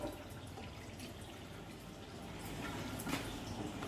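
Clean water runs steadily from the tap of a newly installed home water filter system, a soft, even trickle and splash, quiet and close with no talking.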